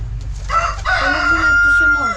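Czech pouter pigeons calling in a loft, a close, loud burst of throaty cooing and warbling calls with low background rumble.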